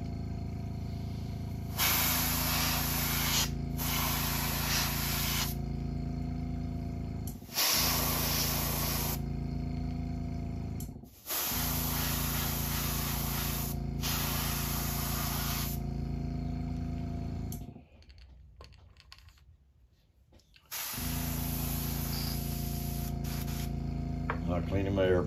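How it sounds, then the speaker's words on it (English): An airbrush being cleaned sprays in long hissing bursts with short breaks between them, loud and close, used for painting a custom orange crankbait lure. "I'm cleaning my airbrush."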